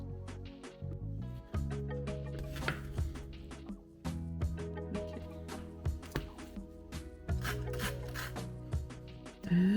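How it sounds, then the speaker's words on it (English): Cheese being grated for a sandwich and pizza: repeated rasping strokes at an uneven pace, close and fairly clear, with a tonal background hum running underneath. "I'll grate some for the pizza later."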